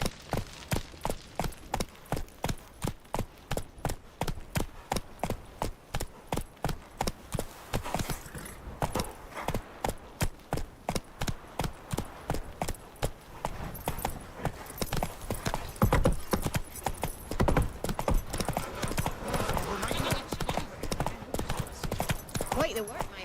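Roach the horse gallops in The Witcher 3 Wild Hunt, a rapid, steady clip-clop of hooves that runs the whole time and grows denser and louder toward the end, with voices and game ambience underneath.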